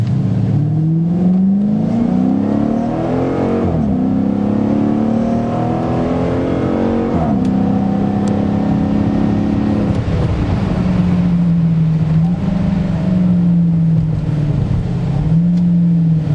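A Dodge Challenger R/T with a 5.7 V8 and Zoomers exhaust revs hard through repeated gear changes, its loud, close exhaust note climbing and dropping with each shift and downshift, with no talking over it.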